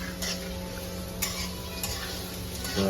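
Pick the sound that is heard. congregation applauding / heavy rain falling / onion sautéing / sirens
onion sautéing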